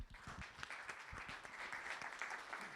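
An audience at a Microsoft Reactor AI and machine learning mini-conference claps steadily, a faint, even patter of hands throughout.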